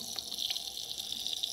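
Water from a bottle trickles softly into a small indoor Buddha fountain, a faint, steady splashing close by with no talking.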